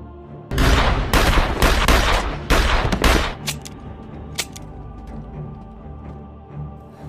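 Loud gunfire in a film scene, several bursts of rapid shots over the first few seconds followed by a couple of isolated sharp cracks against a rumbling background.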